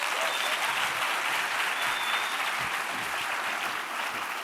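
An audience at an evening lecture event applauds steadily to welcome a professor, a dense sustained wash of many hands clapping with no voices over it.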